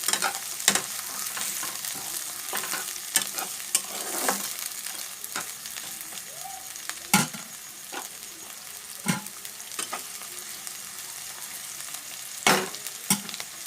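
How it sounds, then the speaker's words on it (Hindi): Vegetables frying in a pan for wheat flour pasta give a steady, soft sizzle, punctuated by light stirring clicks and scrapes, moderately quiet and close with no voices. "तो पहले हम इनको अच्छे से फ्राई कर लेते हैं"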